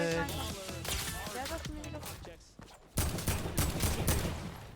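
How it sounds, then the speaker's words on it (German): Gunfire during a Fortnite World Cup duo match, with rapid rattling bursts of shots that start beneath a person talking, dip briefly, then return louder and denser in the second half. "Hilfe, ich habe keine Waffe und ich werde beschossen."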